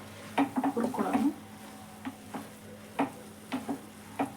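Grated carrot fries in ghee in a pan for carrot halwa, with a soft sizzle under repeated scraping strokes of a spoon. The stirring comes in uneven bursts, close and fairly quiet.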